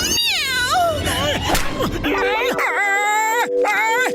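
An animated cat gives loud, drawn-out, wavering meows, several in a row, close and prominent, with voices mixed in around them.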